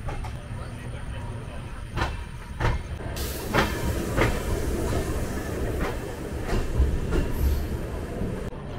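Konkan Railway passenger train No 10115 from Bandra Terminus to Madgaon, heard from inside a coach as a continuous rumbling roll with periodic rail clicks and faint background voices.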